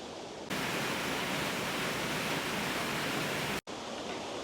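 A large waterfall in the Dinorwig slate quarry roars as a loud, steady broadband rush that stays constant throughout, with a brief dropout near the end.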